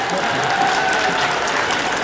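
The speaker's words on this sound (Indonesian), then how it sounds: "Kita kasih tepuk tangan Bu Risma." An audience gives a warm round of applause for Bu Risma at a Surabaya gathering, loud continuous crowd clapping with a faint murmur of voices underneath.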